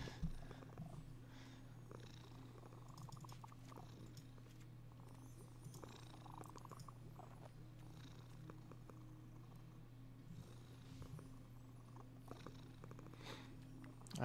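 A cat purrs steadily and softly for a long stretch, a low continuous rumble close to the microphone with faint background noise and no talking.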